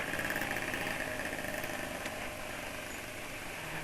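Two-stroke Yamaha Fish R motorcycle engine idling, a steady buzzing rattle heard up close and fairly loud, with no talking.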